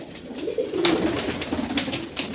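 Pigeon chicks coo softly and repeatedly nearby, low murmuring calls over a faint background hum.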